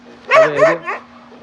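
A dog barks close by in a short burst of two or three yelps, with no other sound around it.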